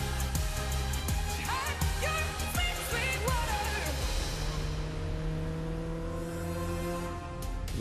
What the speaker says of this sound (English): You hear a motorcycle?